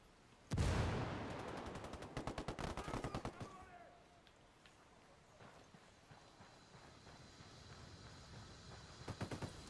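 A frag grenade blasts loudly amid rapid bursts of automatic gunfire in Ghost Recon Wildlands, with sharp shots crowding together and then scattered later reports trailing off.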